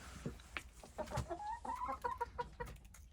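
Chickens cluck and murmur close by in short, uneven bursts, with soft scratching and pecking among bricks and small stones mixed in.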